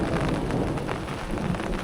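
Steady rain hisses over an open bitter gourd field in the first rain after winter, a dense, even wash of drops with no voices.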